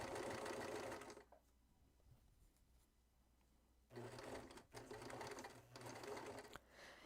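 A sewing machine runs a zigzag stitch through diaper fabric, loud close mechanical whirring in two bursts separated by a quiet pause of a few seconds.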